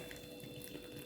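Hot vinegar brine with salt is poured into a jar of onions for pickling, a brief, soft, steady watery pouring rush close by.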